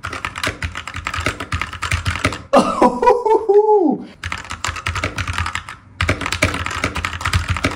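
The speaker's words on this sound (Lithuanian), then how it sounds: "Pirma mano mechaninė klaviatūra." Crisp bursts of typing on a new, small mechanical keyboard, close and clattering in quick runs, broken by a brief pause with a different tonal sound before the keystrokes resume.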